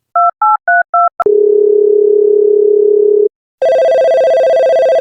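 A telephone gives a quick run of keypad beeps, then a steady flat tone for about two seconds, and after a short gap a loud, bright electronic ring sounds, close and clear with no voices.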